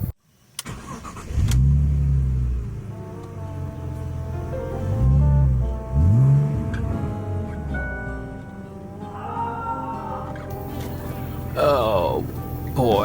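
A neglected car's engine cranks and revs, rising and falling surges of a mid-pitched motor repeating several times before settling into a running drone, loud and close with voices speaking over it.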